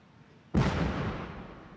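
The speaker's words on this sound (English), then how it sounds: "Gasoline bombs will be exploded on top of a 70 by 70 foot blue screen as the camera is rolling from a height of 170 feet." Gasoline bomb exploding above a large blue screen during filming of movie action effects: a sudden heavy boom followed by a long, deep rumbling roar that slowly fades.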